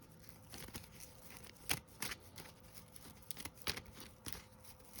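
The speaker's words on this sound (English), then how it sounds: "yeah, let's pull some cards first." Tarot cards shuffled by hand, a run of soft papery riffles and flicks with a few sharper snaps, close and quiet, with no talking.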